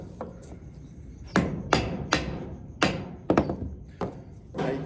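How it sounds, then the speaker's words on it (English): Wooden joint of an IKEA cabinet being knocked apart, about eight sharp hollow thuds in an uneven series with quiet pauses between them, close and fairly loud. "I'm gonna knock on it a little bit. Go ahead and take that joint all the way apart, both sides."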